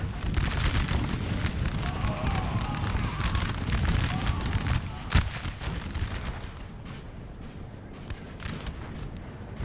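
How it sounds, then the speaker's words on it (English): Musket volleys from the Russian guard in a Napoleon: Total War multiplayer battle crackle and boom at a distance, a continuous rolling roar of massed fire that fades and grows quieter in the later seconds. "Russian guard open fire here again"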